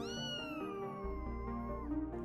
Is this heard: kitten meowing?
yes